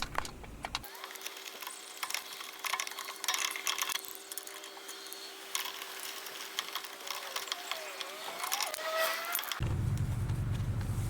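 Handbrake mechanism on a 1.9 PD MK1 Skoda Fabia ratchets as it pushes the brake cylinder out, a steady run of close, fine mechanical clicks and scraping over several seconds, ending in a louder burst of handling noise.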